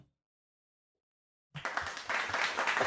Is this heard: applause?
yes